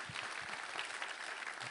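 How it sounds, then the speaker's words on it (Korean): A church congregation applauds together, a steady, faint, distant patter of clapping throughout. "우리 하나님께 우리 감사와 영광의 박수 올려드리겠습니다."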